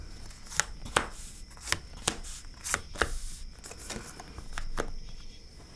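Tarot cards are shuffled up close with a series of sharp, papery riffles and taps in an irregular rhythm, and no talking.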